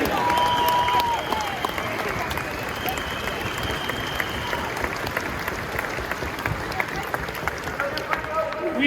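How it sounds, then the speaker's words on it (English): Outdoor crowd at a Welsh farmers' protest outside the Senedd in Cardiff Bay applauding steadily for several seconds, dense clapping with some voices mixed in. "Give yourselves a clap"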